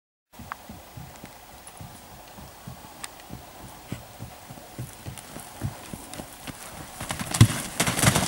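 A pony's hooves clip-clop steadily over a cross-country jumping course at Niinisalo, the rhythmic footfalls close and clear, with a faint snort or whinny near the end.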